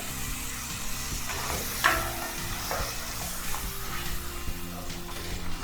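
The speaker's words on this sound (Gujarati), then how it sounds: "ડુંગળીની પેસ્ટને સરસ ચડવી લેવાની છે" Onion paste for dum aloo gravy sizzles steadily in a hot pan, a continuous close frying hiss with occasional scrapes and clinks of stirring and no voices.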